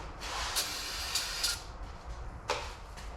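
Starting fluid hisses from an aerosol can into an Edelbrock carburetor on a 1978 Camaro Z/28, a steady close spray with a few brief sharper bursts and a small clink near the end.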